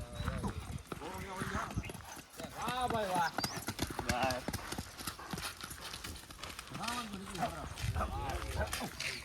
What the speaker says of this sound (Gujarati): દોસ્તો ઘોડી આવે